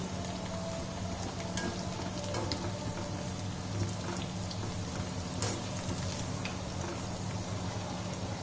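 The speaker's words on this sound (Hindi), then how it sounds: "ये आपको हल्का लाल होने तक इसी तरह भूनना है।" Soya chunks frying in a pan until lightly reddened, a steady soft sizzle and crackle like light rain, quiet and continuous with no talking.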